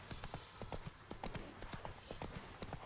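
Horse hooves clip-clop in a steady walking rhythm in a video game, faint and distant, with a low background hum.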